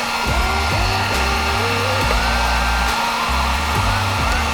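Heat gun warming a cracked plastic auto part for repair, a loud continuous blowing roar that holds steady with slight shifts in pitch.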